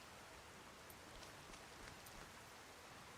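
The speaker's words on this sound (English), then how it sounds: "Here comes the rain." Steady rain falling in the video game Skyrim, a soft continuous hiss with occasional brighter droplet patters, quiet and uniform with no voices.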